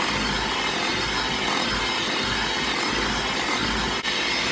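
An electric mixer blends a teaspoon of pure vanilla extract into peanut butter oatmeal cookie dough, a steady loud whirring drone that runs unbroken throughout.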